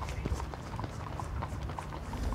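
Soft, rapid hoofbeats of a group of galloping horses drum against low rumbling background noise, fairly distant and steady throughout.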